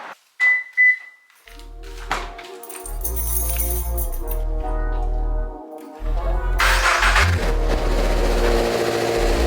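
A 2023 Subaru BRZ engine starting: a brief click and whir, then the engine catches and settles into a steady idle, with another burst and rev near the end, close and loud.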